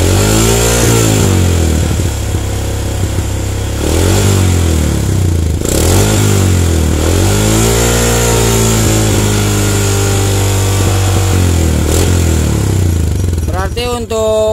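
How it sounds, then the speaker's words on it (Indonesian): An old Yamaha Jupiter MX 135 motorcycle engine runs loud and close, its revs rising and falling in repeated swells before it settles, during a charging-circuit check for a weak regulator. "motornya kita akan coba hidupkan"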